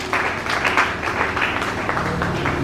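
A church congregation at a Sunday service bursts into applause, a loud dense patter of many hands clapping together for a few seconds, with faint voices mixed in.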